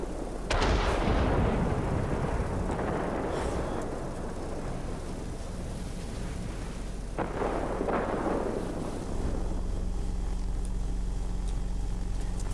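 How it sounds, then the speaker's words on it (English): Heavy aircraft cannon fire from the SE 100 in the World of Warplanes air-combat game, a loud continuous rumbling barrage with bursts that swell and fade over several seconds, no voices. "Ooh, nice sounding gun."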